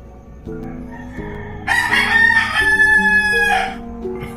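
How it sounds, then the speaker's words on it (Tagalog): A rooster lets out one loud, drawn-out crow close by at 3 a.m., rising and then trailing off, over a soft background of low sustained tones. "Pasensya na ka sa tilaw ng manok kasi alas 3 pa lang."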